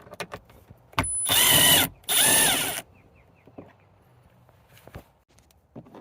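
A power driver or ratchet spins a bolt out of an interior trim panel in a 2023 Honda Ridgeline, in two loud close bursts of about a second each, with light handling clicks and taps before and after.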